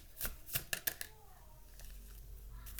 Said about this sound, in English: I always pre-shuffle